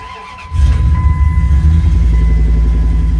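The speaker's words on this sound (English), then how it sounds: "So we'll go right here, turn the car on." A 1998 Dodge Ram 1500 engine cranks and catches after a half-second pause, then settles into a loud, steady, rumbling idle close by, with no talk.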